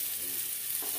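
Small new winter potatoes, peeled and boiled, fry lightly with turmeric and salt in a pan, giving a soft, steady sizzle that hisses quietly and continuously through a brief moment, with no voices.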